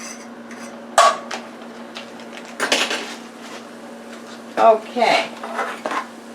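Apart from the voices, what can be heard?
mixing ingredients with sweet peppers in a pan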